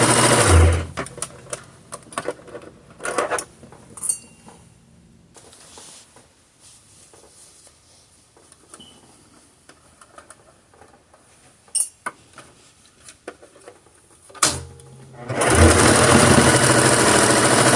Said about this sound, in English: Whoa, sewing machine.